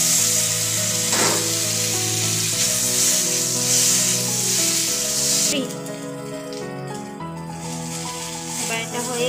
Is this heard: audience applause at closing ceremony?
no